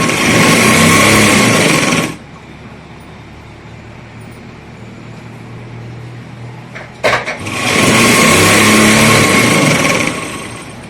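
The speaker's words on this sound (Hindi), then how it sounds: "तो यहाँ से हम इसके ऊपर बिल्कुल पक्की सिलाई लगाएंगे" A sewing machine stitches a kurti seam in two loud, steady whirring bursts of about two and three seconds, separated by a quieter pause.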